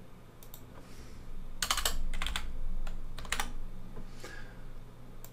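Computer keyboard keys pressed in quick clusters of clicks, with a few separate taps between, moderately close over a steady low hum and no talking.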